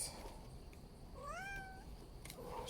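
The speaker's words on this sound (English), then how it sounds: "I apologize for the cat." A single rising-and-falling cat meow, fairly faint, over a quiet room hiss with a few small knocks.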